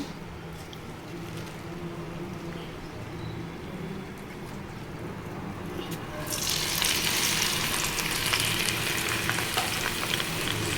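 Gongura leaves go into hot peanut oil, and a faint steady sizzle turns into a loud, bright crackle of frying about halfway through, continuing close up.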